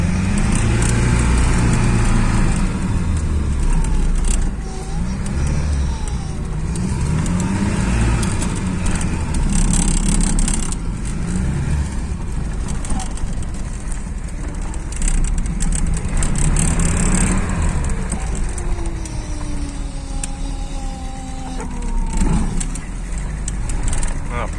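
A car engine on a 402 engine fitted with a K88 carburetor runs steadily and loudly throughout, its drone changing pitch as it revs, with someone talking over it.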